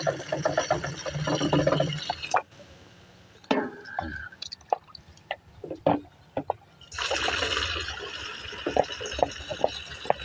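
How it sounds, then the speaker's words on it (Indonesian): Water poured into a plastic jerrycan or gallon drum while making liquid organic fertiliser, a steady close splashing fill that stops partway, then resumes loud with drips and knocks. "Airnya dimasukin ke dalam dirijen, ke dalam galon."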